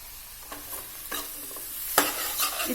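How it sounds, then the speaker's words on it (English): Chopped potatoes and carrots for borsch are stir-fried in a pot. A few sharp scraping stir strokes cut through a low, continuous sizzle nearby. "while we are giving it a nice stir fry and cooking it"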